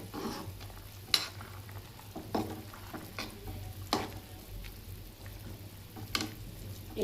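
Fish pulusu, a tamarind curry, cooks in a pan with a steady low bubbling sizzle, broken by occasional stirring scrapes and clinks, close and fairly quiet throughout.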